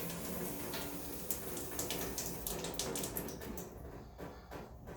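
Air and water hiss and sputter from a loosened bypass hose at test cock number 4 on a backflow test kit, a close, continuous spray with small irregular spurts over five seconds.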